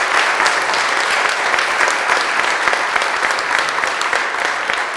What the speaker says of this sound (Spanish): quiero darle un fuerte aplauso, primero que todo, a todos los panelistas